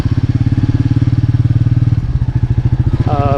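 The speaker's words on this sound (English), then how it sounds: "This is very refined engine, very smooth, and see the off-road of performance" A 2020 Royal Enfield Meteor 350 BS6 single-cylinder engine thumps steadily and loudly while riding, its even pulses changing pace slightly midway, with a brief wavering whine near the end.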